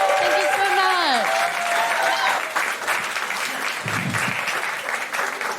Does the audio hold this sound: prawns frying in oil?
no